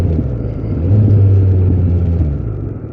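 Kawasaki Concours 14 motorcycle engine with a slipping clutch, a loud, close rumbling roar as the revs climb briefly and hold before easing slightly, with no voices.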